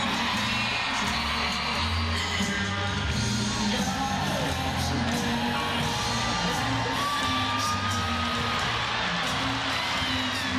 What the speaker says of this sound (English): The crowd on their feet, as we knew they would be